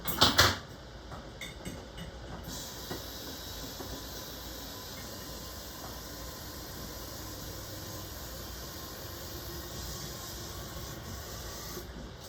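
Water pours steadily into a canning pot holding mango jars in a home kitchen, a continuous hissing rush lasting several seconds after a brief clatter at the start, close and moderately loud.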